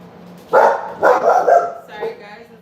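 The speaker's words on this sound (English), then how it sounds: "Sorry guys, that's my dog." A pet dog barks three times in quick succession close by indoors, followed by a softer yip, with faint background hum between barks.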